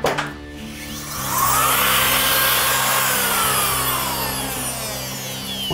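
A rotary tool cuts into ceiling drywall with a steady, loud motor whine whose pitch drifts up and down as it works, with no voices over it.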